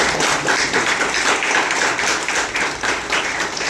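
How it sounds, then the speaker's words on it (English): An audience claps steadily for a hotel culinary team at a Muslim-friendly accommodation awards ceremony, a dense sustained round of applause filling the room without pause. "Let's give them a big round of applause."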